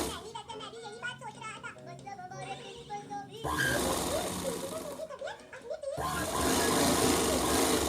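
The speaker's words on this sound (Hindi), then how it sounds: "जिस साइड खोला है उस साइड भी हम एक सिलाई लगाएंगे।" A sewing machine runs in steady whirring stretches while stitching a small doll dress, loud and close, alternating with someone talking in Hindi between runs.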